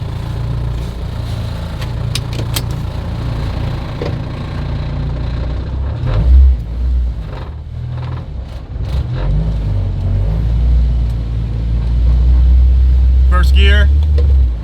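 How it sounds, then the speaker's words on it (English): A Honda Prelude with a K-swap engine on its first drive, loud cabin engine rumble and revving with gear changes, and people talking over the noise. "We're driving the K Swap Prelude."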